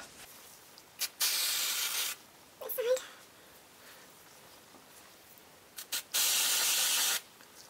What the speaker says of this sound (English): spray it for a decent amount of time